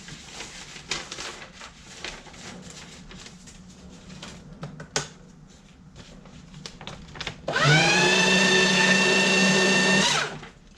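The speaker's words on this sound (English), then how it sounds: "My handy dandy shredder here." Quiet rustling and handling noises, then a loud paper shredder whirs steadily for a few seconds before cutting off.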